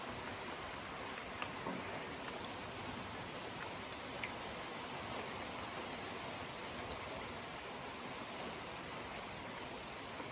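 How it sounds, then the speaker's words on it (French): Steady rain falls continuously, an even hiss of drops on surfaces with no breaks and no voices. "C'est une bonne pluie, hein."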